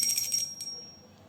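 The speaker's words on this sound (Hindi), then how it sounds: "घंटी अब बजा देंगे घंटी" A small handheld puja bell is rung at home after the Ganga Dussehra aarti, giving a bright, sustained metallic ringing that decays across the short moment, with one fresh strike midway and no talk.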